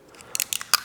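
Scissors cutting a piece of high temperature tape while rebuilding a Porsche 928 brake caliper, several quick close crisp snips in an irregular rhythm.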